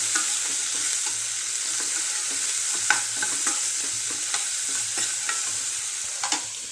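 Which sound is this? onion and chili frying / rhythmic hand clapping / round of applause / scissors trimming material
onion and chili frying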